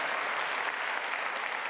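Audience applause at a conference opening session, steady dense clapping from a large crowd, even and sustained for the whole stretch with no voices over it.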